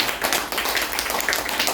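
A church congregation at a Korean revival prayer meeting claps for the pastor, a bright, busy rattle of many hands striking irregularly, close and loud, with no talking.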